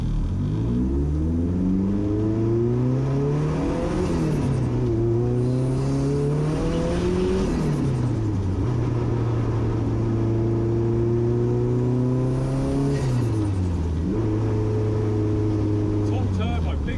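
Twin-turbo Ford Fiesta engine revving hard and building boost, loud and close, its pitch sweeping up and down through repeated climbs and drops, with people talking over it.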